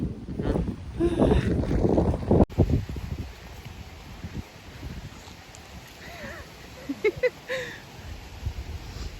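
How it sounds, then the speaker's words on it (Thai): Strong, cold wind gusts outdoors, with loud buffeting on the microphone at first, then a steady rushing roar under a few brief voices. "หนาวมากลมก็แรง"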